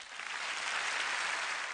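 An audience applauds at a stage comedy and magic show at the Grand Rire de Québec festival in 2006, giving a soft, even burst of clapping that stays faint and distant, with no talk.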